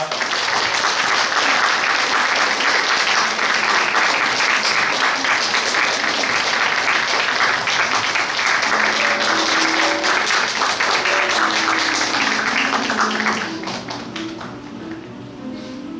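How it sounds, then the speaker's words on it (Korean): A book-concert audience gives sustained, dense applause welcoming a professor and author to the stage, loud and continuous for about thirteen seconds before tapering off as a quieter murmur remains. "큰 박수로 맞이해 주시기 바랍니다."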